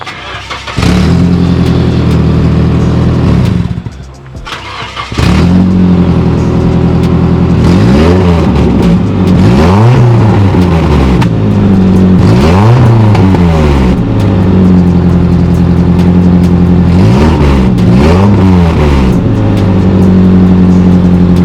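A Nissan S13's engine revs hard through a cheap eBay muffler and flex pipe, loud and raspy, with repeated rising and falling revs close by after a short dip near the start.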